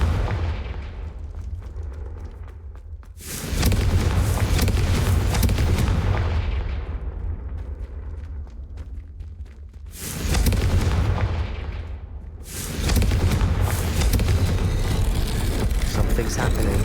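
Fire spell explosions from Confringo in the video game Hogwarts Legacy, three heavy booming blasts that each swell loudly and then fade into a long rumbling tail.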